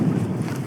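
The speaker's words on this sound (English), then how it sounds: "Windy little spot though." Wind buffets an outdoor spot in a short, continuous low rumble, close and steady with no other clear sounds.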